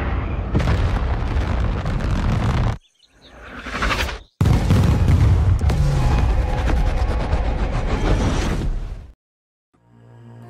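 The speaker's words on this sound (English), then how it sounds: "the team decides to step in and orders Reaper to drop the bomb" A heavy bomb dropped from a Reaper drone detonates in a movie scene, a loud booming blast with a long rumbling roar, a short break, then a second sustained thunderous roar before cutting to near silence.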